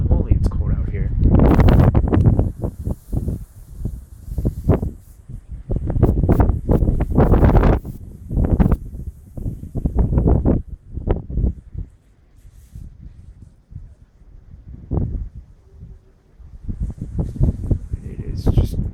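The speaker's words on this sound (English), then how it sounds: "It's snowing right now, and just the wind really, really picks up." Strong gusty wind buffets the microphone during a snowstorm, heavy rumbling bursts rising and falling, with a person talking over it.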